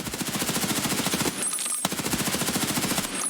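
An HK assault rifle firing full auto in the video game Escape from Tarkov, a fast, even rattle of close, loud shots with a brief pause in the middle.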